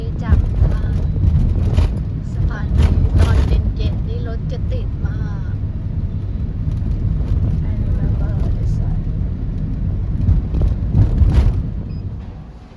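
Taxi ride from the airport into Hanoi at night, with a steady low road and engine rumble from start to finish and voices talking over it.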